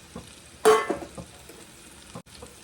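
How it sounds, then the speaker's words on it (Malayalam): Sliced onions hit hot oil in a pan for a chicken biryani masala, bursting into a loud sizzle that settles into a steady close-up frying hiss with a few stirring scrapes. "ഇനി അതേ എണ്ണയിലേക്ക് തന്നെ നമ്മളുടെ സവാള മസാലക്ക് ഉള്ള സവാള വഴറ്റാൻ തന്നെയാണ്"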